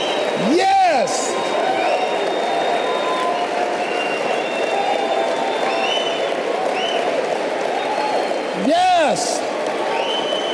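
Audience at a motivational speaking event breaks into continuous applause and cheering, a dense wash of clapping with a couple of sweeping whistle-like tones rising over it.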